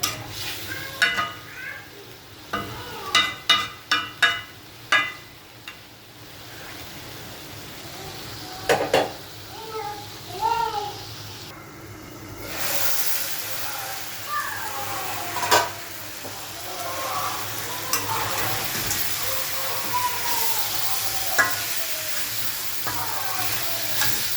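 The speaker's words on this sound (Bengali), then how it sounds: "এবার কিছুক্ষণ পর পর একটু একটু নেড়ে দিতে হবে মাংসটা কষানোর" Beef with small local potatoes is stirred and fried in a pot: a spoon scrapes and clinks against the metal in quick bursts, then a steady sizzle carries on beneath further scraping strokes.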